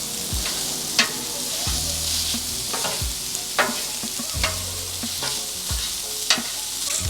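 Sausage browns in a pan with a constant loud sizzle, broken every second or so by sharp spatula scrapes and taps against the pan.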